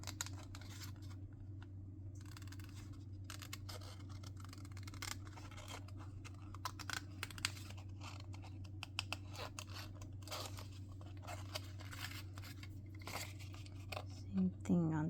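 Scissors cut through paper to trim a Victorian-style frame embellishment, making faint snips and crisp rustles over a low steady hum, with a voice speaking quietly.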